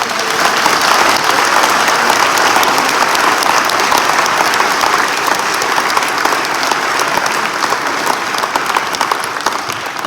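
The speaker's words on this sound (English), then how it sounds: "before I pass the mic over to David Bain, huge round of applause, please." A large audience at a backcountry canoe symposium gives a loud, sustained round of applause, dense and steady from start to finish.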